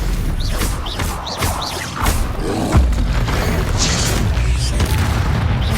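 Confringo blast spell bursting in the video game Hogwarts Legacy, a series of deep booming impacts and whooshing rumbles amid battle noise, loud and close, with a faint voice shouting through it.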